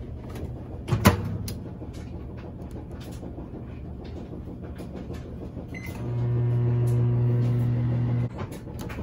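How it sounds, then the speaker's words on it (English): A steady microwave oven hum starts partway through and runs for a couple of seconds before cutting off, following a sharp click or thud earlier, with a washing machine running nearby. "now we're just gonna pop these into the microwave"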